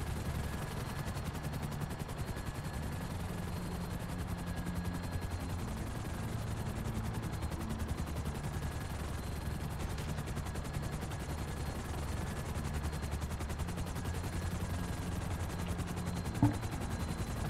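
Video game gunfire rattles steadily throughout, dense and continuous under a dull low rumble, with one sharper crack standing out near the end.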